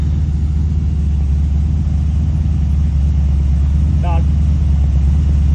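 A 383 cubic inch small block Chevy crate engine rated 350 horsepower sits at idle with a steady, close, low rumbling drone throughout, while someone talks over it.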